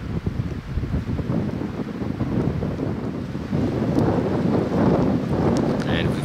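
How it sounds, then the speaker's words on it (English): Strong wind gusting at a mountain camp beside salt water in the Labrador Mountains at nightfall, a steady loud roar buffeting the microphone throughout, swelling slightly toward the end. "It's a windy night, so we've got our tent secured as well as we can."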